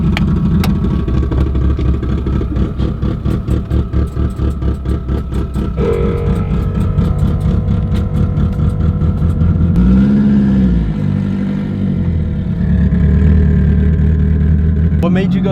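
A Mitsubishi Evo 8 of about 500 horsepower with a hood dump exhaust revs up loudly and close by, its engine note rising and falling in several pulls while people talk over it.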